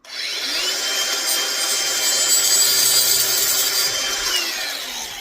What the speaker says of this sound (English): I'm going to take the grinder again and cut off that excess.